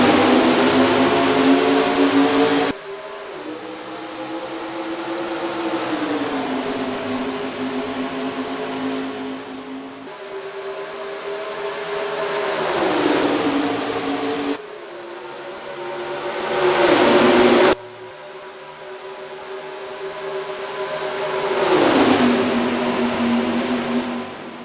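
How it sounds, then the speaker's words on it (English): Stock race cars accelerate off the green flag at Charlotte in the NR2003 racing game, engines revving in repeated rising and falling sweeps, loud and close, cutting between cars. "he'll step on the gas, he starts the race, and we're green flag racing at Charlotte"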